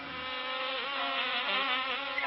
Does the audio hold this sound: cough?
no